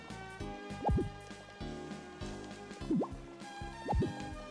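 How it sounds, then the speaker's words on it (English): Plants are watered in the Harvest Moon video game, with three separate bubbly, plopping drip sounds that bend in pitch, spaced about a second apart over soft game music. "I'm gonna go water my plants quickly"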